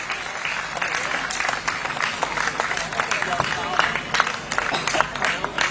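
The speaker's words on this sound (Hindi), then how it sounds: "एक बार फिर जोरदार तालियों से हम माननीय मुख्यमंत्री महोदय का स्वागत" Crowd applause welcoming the chief minister at an elevated road inauguration ceremony in Jaipur, a dense, steady patter of many hands clapping close by, continuous throughout.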